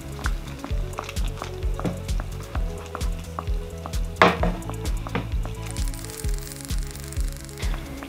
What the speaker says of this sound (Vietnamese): Mình cho chuối vào chiên tiếp nha các bạn.